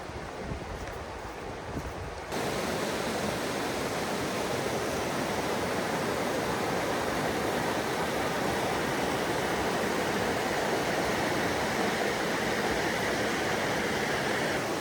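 Water rushes steadily at Haystack Falls in Loyalsock State Forest, a dense, even roar that comes in abruptly after a quieter opening and then holds with no voices over it.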